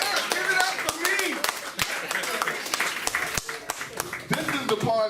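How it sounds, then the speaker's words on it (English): An audience claps for a comedian, a run of sharp, irregular hand claps at close range, mixed with a voice talking over the applause. "y'all can keep clapping for me, though."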